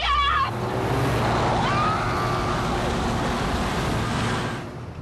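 A Volkswagen Jetta darts through a gap in traffic, its road noise a loud, steady broadband rush that eases off at the end.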